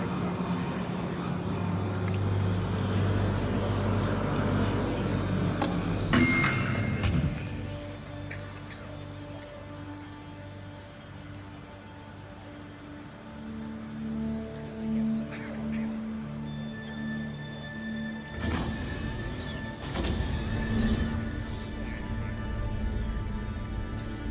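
A vehicle drives around a base in Star Citizen, giving a steady low engine rumble and road noise that shifts and swells over about twenty seconds, with tonal hums and a brief louder burst near the end.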